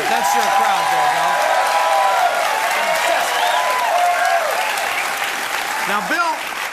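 Studio audience applauding and cheering at a TV comedy reunion show as a guest comes on, sustained loud clapping throughout with someone talking over it.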